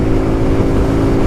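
A Kawasaki Z125 Pro motorcycle engine drones loud and close as the throttle is cranked, holding a steady low buzzing note with little rise in pitch.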